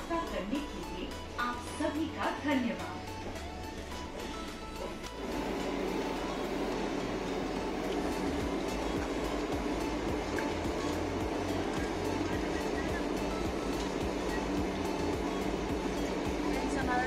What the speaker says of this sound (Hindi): काफी अच्छी ट्रेन है, आप एक्सपीरियंस कर सकते हैं, फास्टेस्ट ट्रेन है दिल्ली के लिए